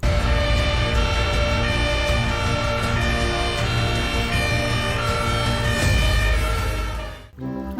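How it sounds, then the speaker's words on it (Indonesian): A six-wheeled toy fire truck sounding its electronic siren, a loud, steady, buzzy tone with pulsing repeated notes that runs continuously before cutting off near the end. "Mobil pemadam kebakaran."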